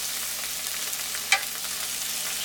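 Onions frying in a pan with anchovy paste, a steady close hiss of sizzling with one brief sharp crackle partway through and no voices.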